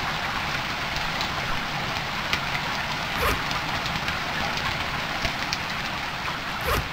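Steady rain falls in the survival video game Stranded Deep, a dense, even hiss of drops on surfaces with a few brief louder patters, continuous and close throughout.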